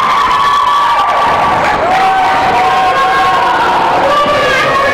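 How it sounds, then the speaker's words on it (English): A loud crowd cheers and shouts at a girls' basketball game, with whoops and children's voices in a continuous roar that swells and holds throughout. "And looks like her cheering squad with her."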